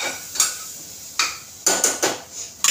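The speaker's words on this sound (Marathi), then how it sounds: "आपल्याला हा एक चमचा मालवणी मसाला टाकायचा, चांगला हलवून घ्यायचा।" A spoon stirs Malvani masala in a pressure cooker pot for Maharashtrian masala rice, giving several sharp metallic clinks and scrapes at irregular intervals, close and fairly loud, with no talking.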